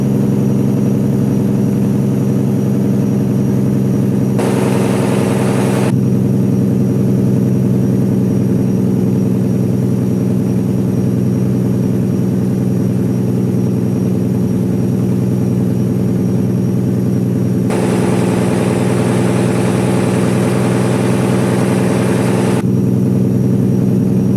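A heavy truck engine in American Truck Simulator runs with its engine brake on a downhill grade, giving a steady loud low drone with a brief rise near the start and a longer stronger stretch later.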